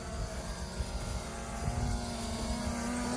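A DEERC DE22 PRO camera drone hovers nearby, its propellers giving a steady high buzzing whine that stays continuous and fairly faint throughout, with no talking.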